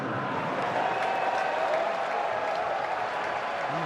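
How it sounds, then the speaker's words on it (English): Crowd applause at a Phillies vs Cubs MLB game at Wrigley Field as a batter steps in, a steady dense wash of clapping and crowd noise that holds throughout. "a nice round of applause for Kyle Schwarber as he steps in."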